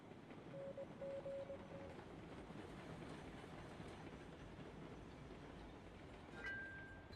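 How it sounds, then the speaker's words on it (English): A train rolls along steadily in Railroads Online with a continuous low rumble and clatter. Faint, brief tonal squeals or whistles rise over the rumble near the start and end. "Where's that train going?"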